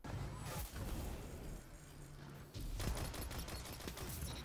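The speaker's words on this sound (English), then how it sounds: "we're using like a long range auto rifle" Suros Regime, a long-range auto rifle in Destiny, fires in quick automatic bursts with a close, dense rattle, pauses briefly, then resumes in a sustained stream mixed with other gunfire and game effects.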